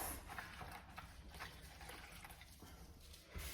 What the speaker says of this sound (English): So I'm just going to rinse that off.